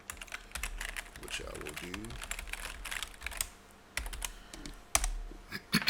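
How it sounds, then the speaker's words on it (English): Password typed on a computer keyboard at a workstation, a few quick bursts of key clicks between stretches of a man's speech. "I simply have to type in the password"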